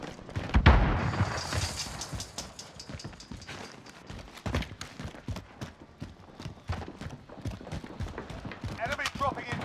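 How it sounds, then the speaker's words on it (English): A stun grenade detonates in Call of Duty Modern Warfare on Rebirth Island, a sharp burst early on followed by clattering footsteps, gunfire-like pops and game noise, with radio-style voice callouts throughout. "Stun grenade out."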